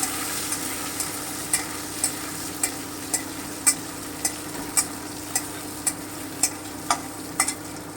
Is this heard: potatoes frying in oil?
yes